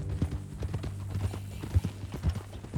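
Horse hooves in Red Dead Redemption 2 clip-clop in a steady walking rhythm on a ranch ride, close and continuous, under quiet conversation.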